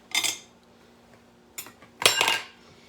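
Metal cookie scoop scraping and clinking against a bowl while scooping homemade ice cream, three short sharp bursts with quiet gaps, close and alone.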